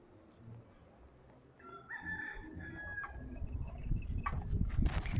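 A rooster crows at a moderate distance in Key West at sunset, then chickens cluck and scratch amid a rising, rustling background.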